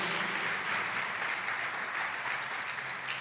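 A church congregation applauds during a sermon, a dense, even roar of many hands clapping that holds steady and fairly distant for the whole stretch.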